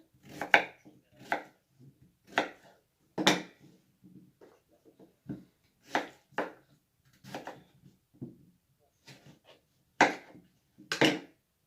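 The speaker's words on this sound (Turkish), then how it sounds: "Şöyle iri iri doğruyorum arkadaşlar." Knife chopping pumpkin into large chunks on a cutting board for a Turkish pumpkin dessert, a dozen or so sharp close thuds in an uneven rhythm with brief pauses, no talking.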